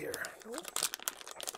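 Close, quiet crinkling and rustling of a plastic anti-static bag being pulled and twisted to tear it, with short crackly bursts and a voice murmuring briefly.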